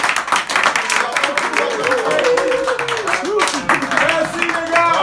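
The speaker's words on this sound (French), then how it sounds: "Merci beaucoup, merci d'applaudir les gars." An audience claps and applauds through a French-language radio debate show, bright dense clapping mixed with crowd noise and voices talking over it.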